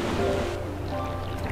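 A waterfall in Super Mario Galaxy 2 gives a steady rushing wash of water, moderately loud and continuous over a short stretch, with no talking.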